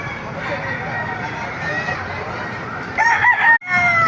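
A rooster crows at the Baliuag pet market, a loud drawn-out cock-a-doodle-doo near the end rising over a busy hum of market noise and people talking nearby.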